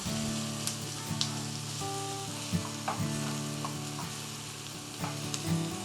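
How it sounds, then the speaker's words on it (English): Onions caramelizing on high heat in a pan sizzle and crackle steadily, with occasional stirring scrapes and small spatters, close and alone without any talking. "So we're gonna caramelize our onions first. Get them nice and golden, which will take a few minutes on high."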